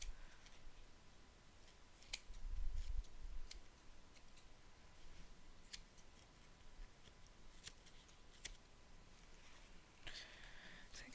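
Scissors trim a handmade mask with faint, sparse snips and small clicks spread over a quiet, hissy room tone.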